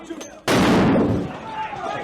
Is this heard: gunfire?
yes